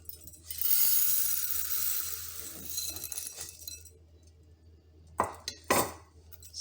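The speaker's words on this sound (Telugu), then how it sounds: "సో దీంట్లో వేస్తున్నాను 1 కప్పు మినపప్పు." A cup of urad dal poured into a container while making poli burelu, a rattling broadband rush of grains that swells then tapers over a few seconds, followed by two sharp clinks near the end.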